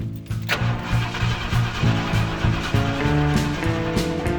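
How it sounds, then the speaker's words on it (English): A classic truck engine, sitting unused for years and now on a new battery, cranking over without catching; a loud, close, even chug of starter turns repeating steadily throughout. "it's cranking now, which is good because it's not locked up, but it sure doesn't sound like it's wanting to start"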